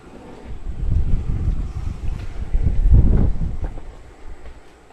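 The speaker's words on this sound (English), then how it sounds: "I'm going to move my floor fan." Wind from a moving floor fan buffets the microphone, making a low rumbling roar that swells and fades over a few seconds.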